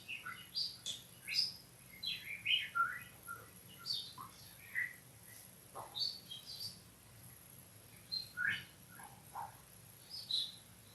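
A human voice imitates bird calls with a series of short, high chirps and whistles, repeated irregularly and fairly faint throughout, alone without talk.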